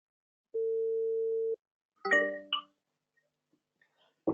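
A single steady electronic tone of about one second on an outgoing call to a digital agency in Manchester, followed by a couple of short clattering handset clicks and then near silence.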